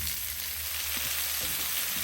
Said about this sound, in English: should let that one sear a little longer